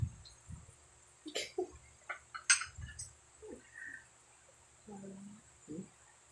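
A person coughing during a simple breakfast mukbang, a few short, quiet coughs in a cluster with soft mouth noises and faint background sounds between them.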